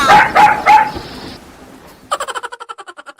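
Three sharp, loud dog barks from a sound effect come in quick succession, then a short low rumble, then a fast run of clipped, stuttering pulses. No speech is heard.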